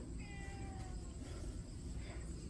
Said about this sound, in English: I got a cat yelling at me